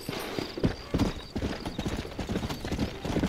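Horse hooves clip-clop in the Red Dead Redemption Undead Nightmare video game, a quick uneven rhythm of close hoofbeats with a brief whinny in the mix.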